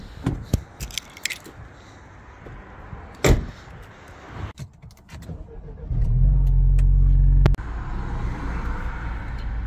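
A car interior with a husky aboard: scattered knocks and door-like thuds, then an engine rumble rising and revving as the car pulls away, holding a steady low drone through the end.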